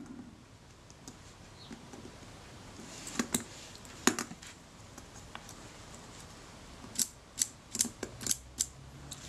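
Small screws are tightened on a Kodak Retina IIa camera, heard as faint, sharp metallic clicks and ticks in scattered bursts against near silence.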